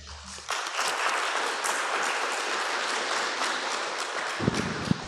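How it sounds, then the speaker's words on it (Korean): Congregation clapping in a Korean church Sunday service to welcome a pastor before the benediction, a sustained dense round of applause that swells in, holds steady and fades out near the end. "한번 박수로 한번 맞이하겠습니다"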